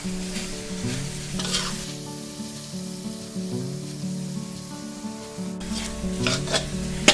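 Pork belly stir-fried with fish sauce in a pan until the liquid dries off, producing a loud, continuous sizzle with rhythmic scraping and rubbing of the spatula throughout.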